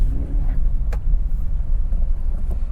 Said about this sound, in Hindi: आपको अगर पहले गियर पे भगा के दिखाता हूँ, वही रिस्पॉन्स है इसका